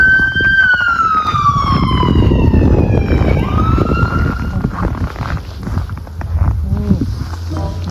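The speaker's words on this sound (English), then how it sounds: "There's an ambulance." An ambulance siren sweeps downward in pitch over heavy road and traffic rumble on a snowy street, loud and fairly close, fading toward the end.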